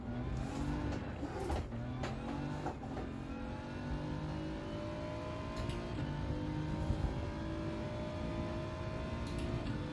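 Racing car engine from a video game lapping the Bathurst circuit, a steady, loud drone with pitch rising and falling through gear changes, holding close and continuous throughout without any talk.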